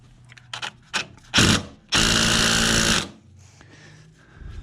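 Impact wrench bursts working bolts loose on a 2007 VW Beetle during clutch repair, a short rattling hammer at first, then a sustained loud buzzing run of about a second, close by with quieter shop noise between.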